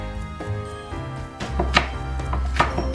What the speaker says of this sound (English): Now here, I like to cut up green onions.